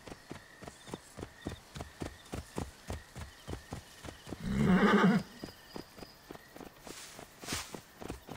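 A horse in the video game Assassin's Creed Origins, at a blacksmith's, walks with a steady, even clip-clop of hooves and gives one loud, clear neigh midway, with no talk.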